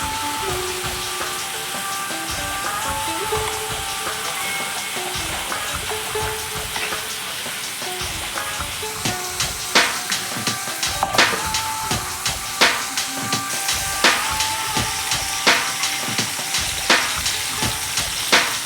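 Potatoes and cauliflower frying in a pan while cooking alu fulkopi posto, a steady sizzle under intermittent scraping and clinking of a utensil, which grows sharper and more frequent in the second half.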